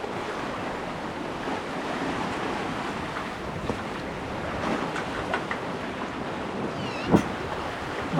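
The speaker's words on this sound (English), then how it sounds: "It's breezy. Yep, it's a little breezy." Breeze blows across Lake Michigan aboard a sailboat, a constant rushing wind and water wash with buffeting on the microphone and a few brief knocks, with no voices.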